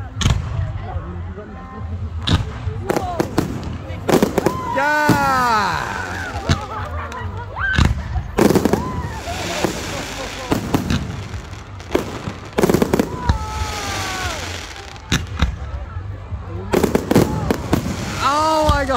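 Fireworks over Loch Sport burst in repeated loud booms and crackles at irregular intervals, some with whistling rising tails, while nearby onlookers talk, exclaim and laugh between the explosions.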